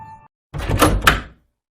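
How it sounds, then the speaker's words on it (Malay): In a horror cartoon animation, a door is pushed shut hard, giving a loud scraping slide followed by two heavy, close thuds, then silence. "Aku menolak untuk menutup pintu dengan kuat."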